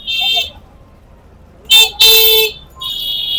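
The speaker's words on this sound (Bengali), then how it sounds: "ফ্রি ফর অল, যে যত পারো হর্ন মারো, কেউ কিছু বলার নেই" Vehicle horns blare in busy street traffic near Anandpur mini bus stand, with a short honk at the start and two loud overlapping blasts in the middle before another horn sounds at the end, over quiet road noise.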